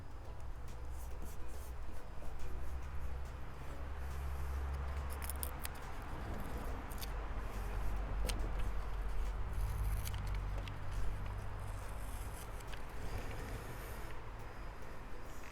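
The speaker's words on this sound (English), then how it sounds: "Let me cut that and put it on here" Scissors cut out a paper template for an AEV snorkel install on a Jeep, with repeated close snips and paper rustle running steadily throughout.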